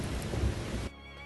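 Heavy rain hisses in a dense roar with a low rumble of thunder during a violent storm in Japan, then cuts abruptly to a quieter background.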